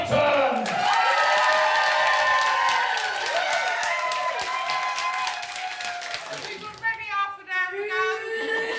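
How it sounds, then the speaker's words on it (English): Audience breaking into applause and cheering for Wally Hammond and James Payton, a dense burst of clapping that fades into musical tones and talk. "please will you give a massive warm round of applause to Wally Hammond"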